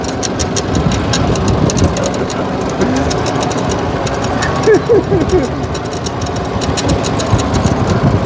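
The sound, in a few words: tractor engine driving to the garden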